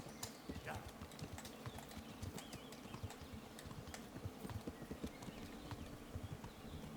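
Horse hooves clip-clop steadily on a path along a river in the medieval game Kingdom Come: Deliverance, a continuous rhythmic trot heard up close with faint game ambience and occasional soft wing flaps.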